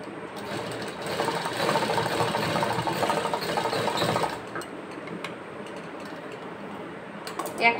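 A sewing machine runs steadily, stitching a straight seam along fabric for about four seconds, then drops to a quieter hum with a few faint clicks and a short knock at the end.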